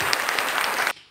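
Audience applause at a Hindi kavi sammelan poetry recital, a dense burst of clapping filling about a second before cutting off abruptly, with no voices heard.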